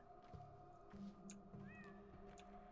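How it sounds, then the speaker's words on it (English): Meows from a cat in the video game Pathologic 2, two or three short distinct cries over a steady droning game ambience with a low hum. "Cat."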